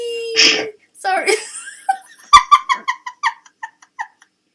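A sharp sneeze breaks out, then a voice speaks briefly and a burst of high giggling laughter trails off.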